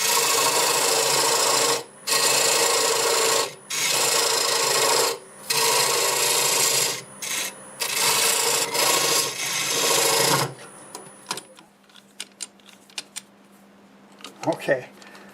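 A skew chisel cuts mesquite wood spinning on a lathe at about 850 rpm. Loud, continuous scraping and rasping comes in long passes broken by brief lifts, then gives way to a quiet motor hum with clicks and light handling.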